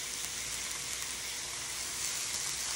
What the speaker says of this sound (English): I'm gonna add the onions